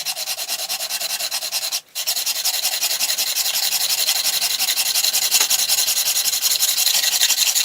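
A cheap hand plane's sole is rubbed back and forth on 60 grit sandpaper to flatten it, making a steady, loud, continuous abrasive rasp with one brief pause near the start, heard alone.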